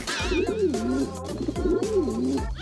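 A pigeon coos close by in repeated throaty, rolling calls, one phrase after another with no pause, over a faint background.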